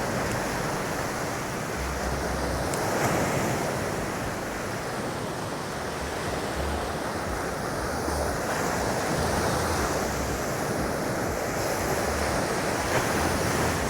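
Storm-driven surf pounds Divi Beach in Aruba, a continuous broad roar of breaking waves mixed with gusty wind buffeting the microphone, with no voices.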